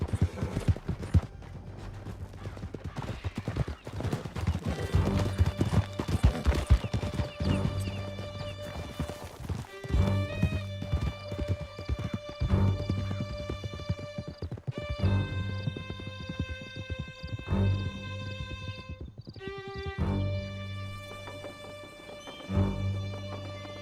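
Horses gallop through a Red Dead Redemption 2 scene in a steady, close clip-clop of hooves with occasional whinnies, running the whole stretch beneath music and a few distant gunshots.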